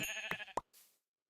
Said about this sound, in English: Well, at least I found another sheep over here.